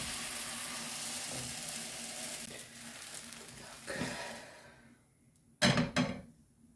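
Thin crepe-like pancakes sizzle softly in a frying pan, the hiss fading before a couple of sharp clacks and scrapes as a wooden stick flips one over.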